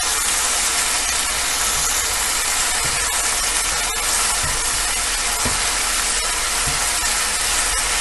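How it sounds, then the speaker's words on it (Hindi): Turmeric and spices roasting in a hot pan for stuffed karela give a steady, close sizzling hiss that runs unbroken throughout, with no talking. "ये देखें थोड़ा सा भून जाए, हल्दी वगैरह भून जाएगी"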